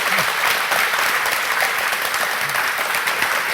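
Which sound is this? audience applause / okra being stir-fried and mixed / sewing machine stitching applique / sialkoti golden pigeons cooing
audience applause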